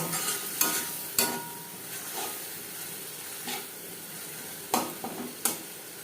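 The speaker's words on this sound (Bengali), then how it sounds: "পেঁয়াজের সাথে মাছের তেল বেশ ভালো করে মিক্স করে" Fish oil fries with onions and spices in a pan, giving a soft, steady sizzle broken by a few scraping stirs and clanks of the spoon, close but moderate in level, with no talking.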